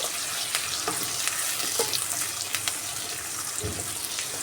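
Thinly sliced large onion fries in a pan for a Nellore-style taro root curry, a steady crackling sizzle with a few clicks of stirring and utensil contact.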